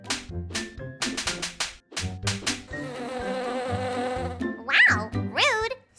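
A bee buzzes loudly and close, first in a series of short, choppy bursts, then in one long sustained drone that ends in wavering, rising and falling buzzes.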